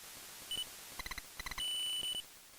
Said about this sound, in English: That was definitely a frog, a little chirp chirp.